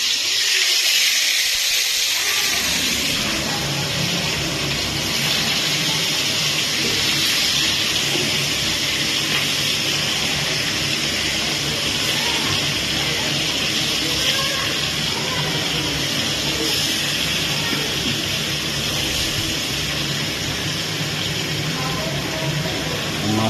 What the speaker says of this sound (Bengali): তো এখন মাছগুলো ভেজে নিই।